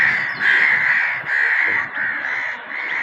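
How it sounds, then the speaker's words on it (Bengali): Crows gathered in the morning near a busy road caw continuously in a dense, overlapping chorus that swells and dips without pause, close and steady. "সব পাখি আমার কাছে চলে আসে সকালবেলায়"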